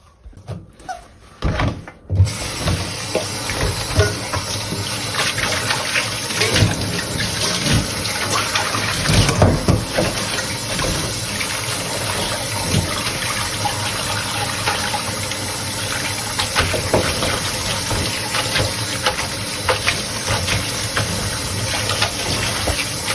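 Running water gushes steadily over foraged wild vegetables being rinsed for Thai-style pickling, a continuous close splashing wash with occasional louder splashes and handling knocks.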